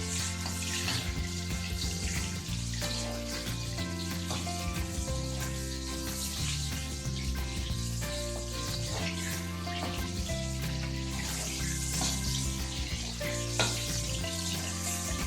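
Shiitake mushrooms fry in hot oil in a pan, a steady loud sizzle with crackling and occasional stirring, continuous and close with no talking.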